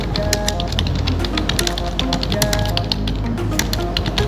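Rapid typing on a computer keyboard while writing in Microsoft Word, a close, steady stream of sharp clicking keystrokes with soft background tones.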